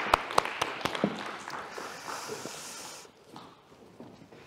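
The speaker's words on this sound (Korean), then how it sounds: "우리 박수로 하나님께 영광을 드리겠습니다." A church congregation at a Sunday service breaks into applause, a dense patter of clapping with a few sharp claps at the start that fades to quieter sound after about three seconds.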